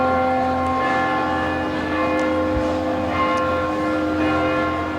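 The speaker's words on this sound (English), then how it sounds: "The tolling of the bells is supposed to suggest that we should be getting going" Large bells toll steadily at an outdoor Harvard commencement ceremony, their long ringing tones overlapping and sustained throughout, loud and continuous with no speech over them.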